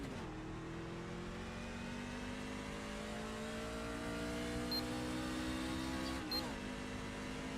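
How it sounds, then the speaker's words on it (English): A NASCAR race car engine at Talladega in a racing video game revs up in long, smooth climbing sweeps, faint and steady, with one brief dip before it climbs again. "Oh, we're winding them RPMs up."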